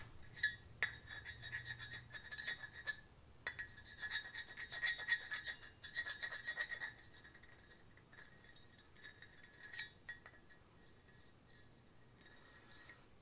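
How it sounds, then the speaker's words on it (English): A small hand file rasps back and forth on an AR-10 rifle part to dress and deburr it, close and fairly quiet, with rhythmic strokes in bursts separated by short pauses. "Get my small file out here. I'll do a little dressing up on it."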